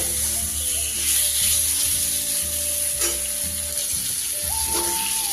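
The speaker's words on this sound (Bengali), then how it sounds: "মিনিট পাঁচেক এইভাবে চিকেনটা মশলার সাথে ভাজা ভাজা করে নিলেই হবে" Chicken pieces frying with spices in a pan give a steady, bright sizzle throughout, with occasional scraping stir sounds and a faint background tone, no voices.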